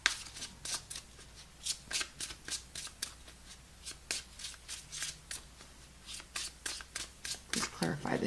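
A deck of tarot cards is shuffled in repeated crisp riffling bursts, close and fairly loud, each flurry of card slaps arriving in a steady rhythm over about eight seconds with no talking.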